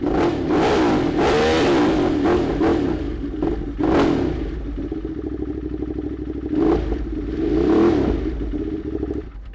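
Motorcycle in race mode accelerating hard through the gears, loud close engine roar with repeated rising revs and quick shift breaks, mechanical clatter underneath.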